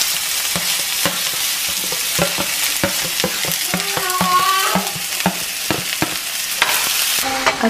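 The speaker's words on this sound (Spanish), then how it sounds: "Vamos a freír el ajo y la cebolla con muy poquita aceite." Garlic and onion fry in a small amount of oil, giving a steady bright sizzle with a scatter of sharp crackles and pops and occasional stirring clatter; no one speaks.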